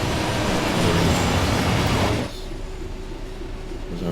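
An empty freight train in Train Sim World 5 rumbles loudly under braking with broad rolling noise, then drops abruptly to a quieter steady hum with a low tonal drone.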